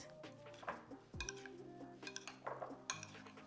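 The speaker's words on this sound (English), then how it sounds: "we're going to give that a quick mix" Spoon clinks and scrapes against a bowl as chicken taco ingredients with lime are mixed quickly, several close, light clatters and taps with no talking.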